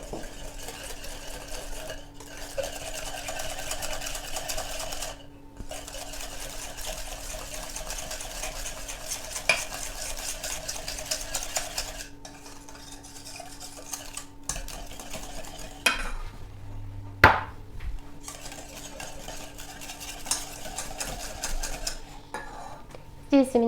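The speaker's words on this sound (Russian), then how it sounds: "Добавляем яйца и хорошо все перемешиваем." Eggs being stirred into cooled honey mixture for a honey cake batter, a steady close rhythmic whisking and scraping against a bowl with a few brief pauses and sharper knocks near the end.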